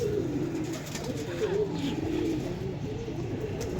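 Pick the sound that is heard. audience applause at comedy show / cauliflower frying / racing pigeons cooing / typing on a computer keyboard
racing pigeons cooing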